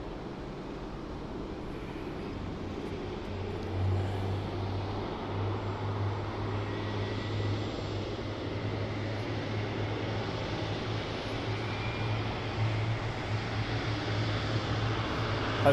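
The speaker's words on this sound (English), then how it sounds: "Oh, the TUI Dreamliner is lining up." A TUI Boeing 787 Dreamliner lines up on the runway at Birmingham Airport, heard from a distance as a steady, low engine rumble with a constant droning hum, alone and without talk.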